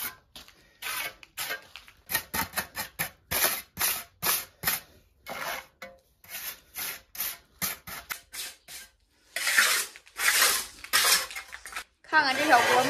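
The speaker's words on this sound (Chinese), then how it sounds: "把它磨出个光面来" A small pot is ground smooth by hand, giving a long series of loud, rhythmic scraping and rasping strokes close up, with brief pauses between bursts and a few sharper clattering metallic hits near the end.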